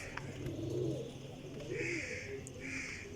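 Low, throaty cooing of high-flying pigeons repeats in soft rolling bursts, with occasional higher chirps from other birds nearby.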